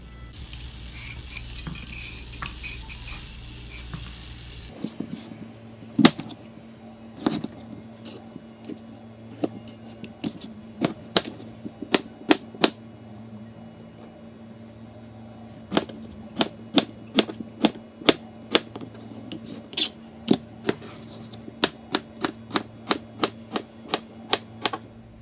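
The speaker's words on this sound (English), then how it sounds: "Now peel, dice, shred your veggies." A knife chops and dices vegetables on a cutting board for red lentil soup, with sharp irregular clacks in bursts and runs of quick strikes over a faint steady hum, with no one talking.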